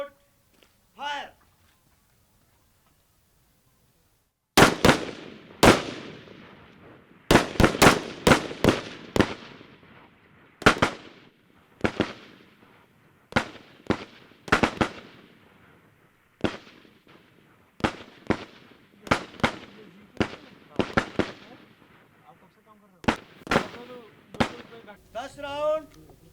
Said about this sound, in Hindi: सामने 4x4 bunker target 10 round single shot fire.